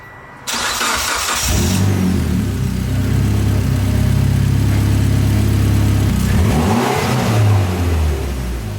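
A Mitsubishi Evo X fitted with a 50/50 bypass valve starts up and settles into a loud, close, steady idle with a deep rumble, then briefly revs and dips near the end.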